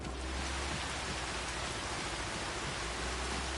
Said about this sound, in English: just started raining